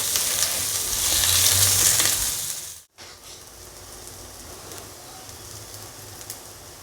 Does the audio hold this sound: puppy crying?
no